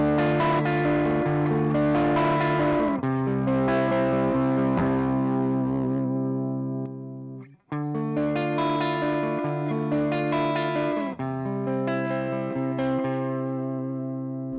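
Sterling by Music Man Sub Series Axis electric guitar played through a Fire Booster pedal into a clean amplifier channel, loud sustained chords ringing with a brief cutoff midway before strumming resumes.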